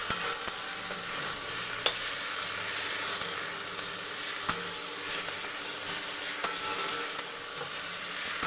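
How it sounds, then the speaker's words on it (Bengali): Fish curry spices, turmeric and salt, being stirred in a pan with ridge gourd and potato, a steady soft sizzle under occasional scraping taps of the spoon, close and moderately quiet, no talk. "এরপর হলুদ আর লবণটাকে মিশিয়ে দিতে হবে দিয়ে আবারও নাড়াচাড়া করে নিতে হবে"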